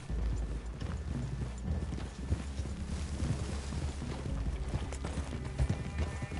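Horse hooves clip-clop steadily over the ground in Red Dead Redemption 2, with several horses moving together at a walk in a close, continuous stream of muffled thuds that never lets up, no voices over them.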